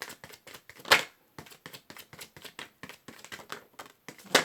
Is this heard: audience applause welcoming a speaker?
no